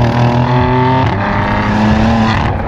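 A BMW S55 engine in an F80 M3 or F82 M4 with an EPA-compliant exhaust revs hard up and down close by, a loud throaty exhaust rising in pitch and dropping back over a few seconds.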